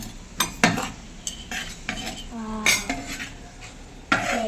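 Curd being stirred into pazhamkanji in a pot, with a series of close clinks and scrapes of a spoon against the vessel, irregular and fairly loud, plus brief voices.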